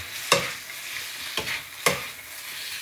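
Clams with green chili being stir-fried, a constant close sizzle of the hot pan cut by three sharp scraping strokes of the spatula, with no voices.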